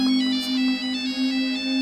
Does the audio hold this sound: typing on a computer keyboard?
no